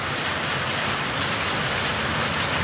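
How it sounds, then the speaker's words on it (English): Hail falls steadily at a motorcycle rally in Sturgis, a dense, loud, continuous hiss of small stones striking surfaces close by, with no talking. "and here's the hail."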